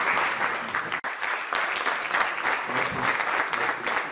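An audience at the closing ceremony of a training session for African artisans, held by the Rabat-region Chamber of Traditional Crafts, applauds King Mohammed VI while standing. The clapping is dense and sustained, with one brief dip near the start.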